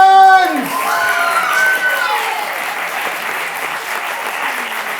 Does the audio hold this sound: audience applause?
yes